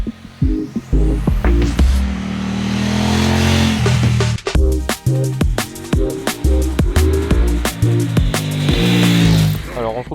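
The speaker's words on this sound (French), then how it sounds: "je vous emmène avec moi à bord de cette moto" A Kove 800X GT motorcycle engine revs and pulls, its tone climbing and dropping in steps as it accelerates, loud and close with sharp mechanical clicks between the rises.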